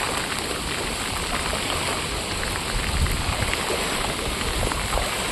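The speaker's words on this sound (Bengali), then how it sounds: "কুড়ি ঘন্টার ওপরে বৃষ্টি চলছে এখনও চিত্তরঞ্জনে কন্টিনিউ" Heavy monsoon rain that has fallen nonstop for over twenty hours in Chittaranjan, with nearby land flooded, makes a dense, steady hiss that continues unbroken with no talking.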